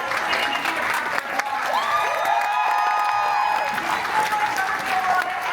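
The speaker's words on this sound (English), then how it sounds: "please stand up and give me a round of" Premiere audience for Star Wars Andor Season 2 applauds the show's crew, steady close clapping with some cheers and whoops, while a host speaks over it.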